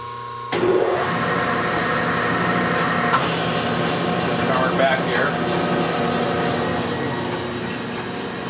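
A Clausing 6913 lathe on a phase converter starts with an abrupt jump into a loud, steady electrical hum and machine drone that holds constant with tonal whine, then eases slightly toward the end.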